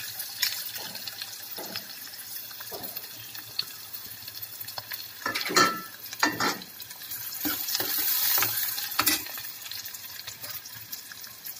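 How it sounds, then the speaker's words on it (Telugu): Onion pieces frying in a pan while being stirred give a low, quiet sizzle under scattered close scraping and clacking strokes of the spoon, irregular and a little wet-sounding. "ఇప్పుడు ఉల్లిపాయ ముక్కలు వేసేస్తున్నాను."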